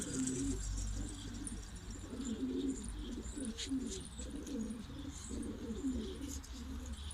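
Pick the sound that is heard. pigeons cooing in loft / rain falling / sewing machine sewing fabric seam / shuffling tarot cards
pigeons cooing in loft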